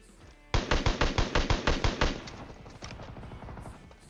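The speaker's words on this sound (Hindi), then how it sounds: "अब मेरे पे एक ऐसी गन है जिसमें फायर दबाने पे गोलियां लगातार निकलती हैं।" An automatic gun in the video game PUBG Mobile fires a sustained burst of about nine rapid, evenly spaced loud shots, then cuts off into fading echo and faint background noise.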